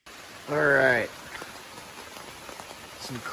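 Heavy rain falls outdoors during a camping and flint knapping trip near the Canadian border, a steady broadband hiss of drops on surfaces, with a brief loud vocal exclamation near the start and faint voices later.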